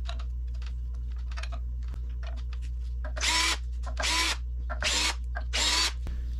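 A power drill unscrews the bolts from a bike wheel, running in four loud bursts of about a second each over a steady background hum, with faint clicking and handling noises before the bursts.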